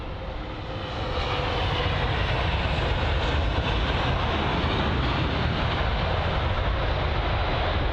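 A British Airways Airbus A350 arrives at London Heathrow as a loud, broad jet roar that swells in the first second and then holds a steady, close rumble for the remainder.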